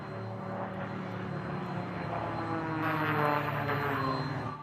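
Aerobatic propeller monoplane and biplane at an air show, a steady, loud engine drone with a rising and falling propeller buzz as the planes pass, heard at moderate distance.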